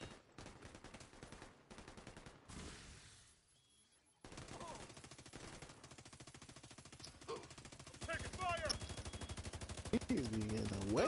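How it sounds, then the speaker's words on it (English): Rapid automatic gunfire in a video game, sustained bursts that pause briefly and then resume louder and closer. The shooting plays alone, with no talk. "I'm taking fire"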